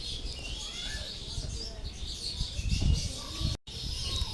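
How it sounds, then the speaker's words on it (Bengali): Many birds chirp and call outdoors in a steady busy chorus at moderate distance, with some cooing mixed in and a brief dropout near the end. "আমি যেখান থেকে ভয়েসটা রেকর্ডিং করতেছি সেখানে পাখির প্রচুর শব্দ"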